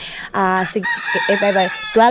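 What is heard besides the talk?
rooster crowing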